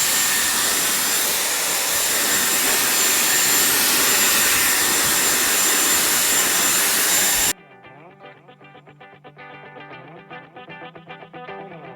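A Dyson Airwrap blows hot air over wet hair in a loud, steady, high-pitched roar for about seven seconds, then cuts to a much quieter, lower fan hum with a faint fluttering rhythm.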